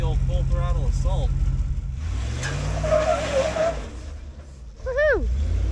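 A Land Rover Discovery on an offroad course, engine revving hard at full throttle with a tire spinning and squealing, loud and continuous, with voices audible over it.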